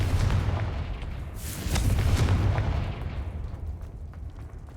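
A Confringo fire spell explodes in Hogwarts Legacy with a heavy, booming blast that swells over an ongoing low rumble. The blast peaks near the middle, then fades into a softer crackling tail.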